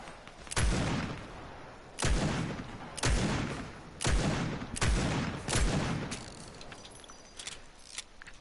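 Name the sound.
gunfire with heavy recoil in the Overwatch video game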